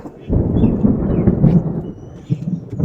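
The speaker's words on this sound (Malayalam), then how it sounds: "അപ്പോൾ ഇടി വെട്ടുന്നുണ്ട് അയ്യോ" Low rolling thunder rumbles steadily for a couple of seconds on the Laha gap road in Pathanamthitta, fairly loud and heavy with a few deeper swells.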